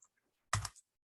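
A short burst of computer keyboard typing while entering data into an Excel spreadsheet, a quick cluster of clicky keystrokes lasting about a quarter second, close and fairly quiet after near silence.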